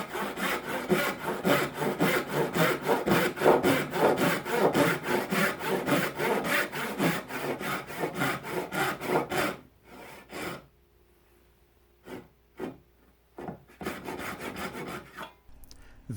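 A thin-plate dovetail saw with a narrow kerf cuts wood in quick, even push-pull strokes for about ten seconds, then a few separate strokes after a pause, close and alone.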